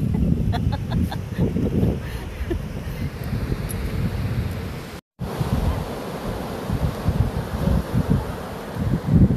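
Strong wind buffets the microphone in heavy, rumbling gusts with a surf-like roar, briefly cutting out before resuming just as loud.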